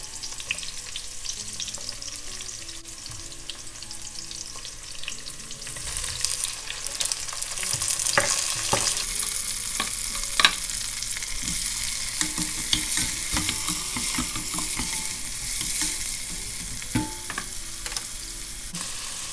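Ginger and cashew nuts roast in a hot pan, sizzling and crackling steadily while they are stirred and scraped now and then, growing louder partway through, with no voices.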